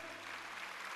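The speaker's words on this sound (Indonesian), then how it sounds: "Tepuk tangan, saudara, tepuk tangan." Congregation clapping hands together at a dawn prayer church service, a dense, continuous patter of applause filling the room for about a second.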